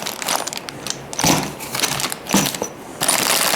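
Bolts, nuts, washers and small leveling plates for a car-lift track being handled from a box: repeated metallic clinks and rattles with a few louder jangling bursts, close up, no talk.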